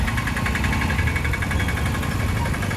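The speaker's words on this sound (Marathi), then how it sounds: "ट्रॅफिक लागलेली आहे आता" Dense road traffic jam in Lodha, with a steady close engine drone and idling vehicle rumble holding at one level throughout.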